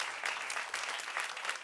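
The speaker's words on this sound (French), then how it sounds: "Par applaudissement les filles, qui a déjà vécu une forme d'agression?" A comedy club audience applauds during a stand-up set: a brief, dense burst of many hands clapping, loud and continuous, with a faint crowd murmur underneath.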